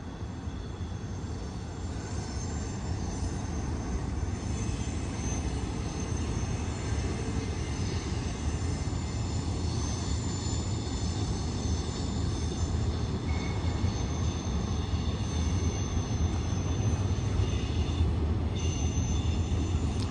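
An intermodal Z freight train hauling FedEx and UPS trailers rolls around Sullivan's Curve, producing a continuous low rumble and steady wheel noise that holds without a break.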